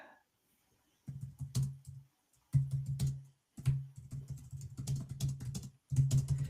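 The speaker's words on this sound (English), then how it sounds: "sees me just typing away" Fast clattering keystrokes on a computer keyboard come in several bursts separated by brief pauses, close and crisp with a quiet background and no talking.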